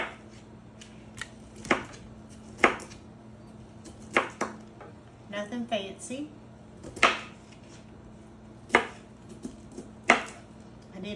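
A knife chops through broccoli on a cutting board in sharp, irregular knocks, with a brief rustle partway through and a voice speaking briefly.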